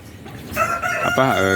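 A young Rhode Island Red rooster, about two and a half months old, lets out a single crow that rises and then breaks into a wavering, strained end, loud and close after a faint quiet start.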